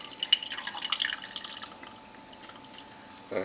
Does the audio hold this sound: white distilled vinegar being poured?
yes